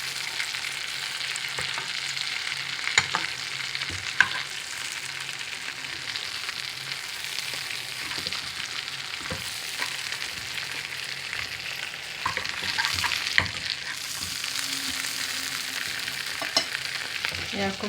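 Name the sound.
meat searing in butter and olive oil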